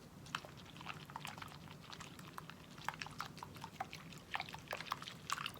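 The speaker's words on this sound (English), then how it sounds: "mix up the water that you're in right now" Foamy water being swirled and mixed in a small bowl for soaking fingernails, soft close wet sloshing and dripping in uneven bursts, quiet and intimate.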